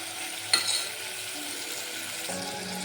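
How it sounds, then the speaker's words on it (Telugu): Tomato, coriander powder and garam masala are stirred into frying mutton curry, giving a soft, low sizzle with a sharp clink of the spoon early on and a scrape later. "ఇప్పుడు ఇందులో టమాటా, అలాగే అందులోనే ధనియా పౌడర్ ఇంకా కొంచెం గరం మసాలా పౌడర్ వేసుకొని ఒక్కసారి బాగా కలుపుకోవాలి"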